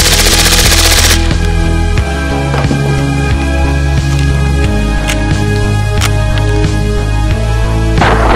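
Video-game gunfire from an MP7, rapid bursts of machine-gun shots rattling loudly and continuously, with sharp individual cracks scattered over a dense background of game sounds.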